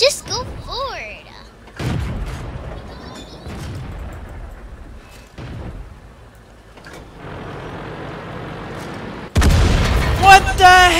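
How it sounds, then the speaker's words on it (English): Artillery shell strikes in World of Tanks, with a Churchill tank platoon in play: several deep booms and rumbling impacts spaced a few seconds apart, with a heavier blast near the end, plus a brief burst of talk early on. "What the heck was that? That must have been an artillery."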